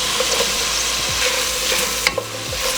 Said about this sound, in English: We're gonna go ahead and cook this till the onion starts to turn a little bit translucent.